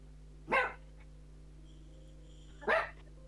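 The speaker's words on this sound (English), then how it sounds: "Yeah, he's a fun dog. Corgi Chihuahua." A Corgi Chihuahua mix dog gives two short, separate barks about two seconds apart, close and fairly loud over a quiet room hum.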